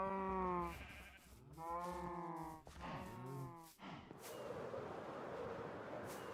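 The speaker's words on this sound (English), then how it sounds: "we have the Jeb sheep" Jeb sheep in the Minecraft video game bleating in several close, harmonic calls one after another, each a wavering baa, followed by a wash of broadband noise at the end.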